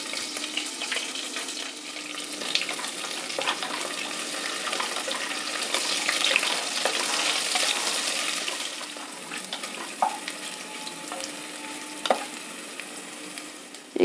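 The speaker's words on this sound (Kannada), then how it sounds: "ಈಗ ಉದ್ದಿನಬೇಳೆ ಕಡಲೆಬೇಳೆ ರೋಸ್ಟ್ ಆಗಿದೆ." Chana dal, urad dal, ginger, green chillies and curry leaves roast in hot oil in a pan for rava kichdi, a steady close sizzle with occasional stirring scrapes and a few sharper clicks.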